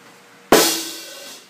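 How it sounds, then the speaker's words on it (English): A snare drum and hi-hat struck together in a single sharp hit, with a bright crash-like attack and a short ringing decay, heard alone. "Last, you will hit the snare drum and the hi-hat at the same time."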